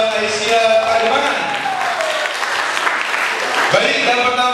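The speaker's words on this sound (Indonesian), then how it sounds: "Tepuk tangan dulu dong, Mbak Aisyah Kademangan." Applause rings out at a kindergarten graduation ceremony held in a studio, with steady clapping from the audience mixed with a voice and music over it.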